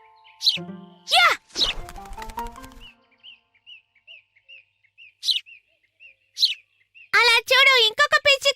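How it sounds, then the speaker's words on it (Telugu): Another cartoon sparrow chirps in a quick, evenly spaced series of small tweets, steady and clear, with animated voices talking before the chirps begin and again after they end. "అలా చూడు, ఇంకొక పిచ్చుక."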